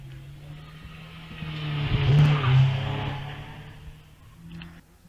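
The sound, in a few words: Caterham 7 car launching at Wiscombe Park hillclimb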